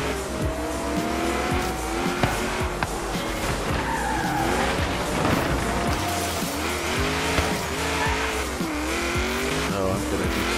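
Race cars roar and tires squeal during a race event in the Forza Horizon video game, engines revving continuously and skidding loudly throughout, close and constant.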